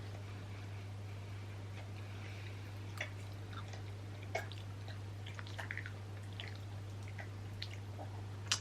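Close, quiet chewing of Christmas food, with soft wet mouth clicks and squishy bites scattered over a steady low electrical hum, no talking.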